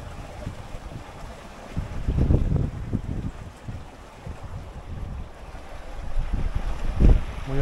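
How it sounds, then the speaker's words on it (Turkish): Strong wind buffets the microphone in heavy rumbling gusts, with water rushing against a moving MacGregor sailboat under sail beneath it; no voices. "Rüzgar bayağı basmaya başladı."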